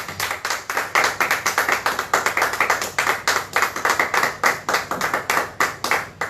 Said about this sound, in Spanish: ¿Qué te parece si le damos un aplauso al Señor?